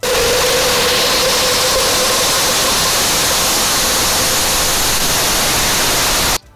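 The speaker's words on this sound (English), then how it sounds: "sustainer ignition. We've got another engine turning on right now." Rocket sustainer engine igniting in flight, heard as a loud, steady broadband roar that holds for about six seconds before cutting off abruptly to near silence.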